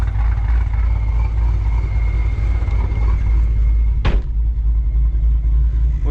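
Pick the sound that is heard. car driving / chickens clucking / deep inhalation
car driving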